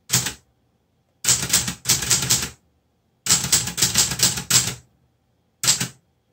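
Bursts of key strikes clatter on a Clover Top Star 10S two-set Hangul manual typewriter, loud and close, in several quick clusters separated by pauses, with no talking.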